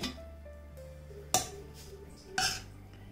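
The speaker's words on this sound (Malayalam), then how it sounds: "നമുക്ക് കുക്കർ ഒന്ന് ഓപ്പൺ ചെയ്ത് നോക്കാം." The lid of a steel pressure cooker, holding boiled chickpeas, is opened in a home kitchen, giving two sharp, ringing metal clinks a second apart over a quiet background.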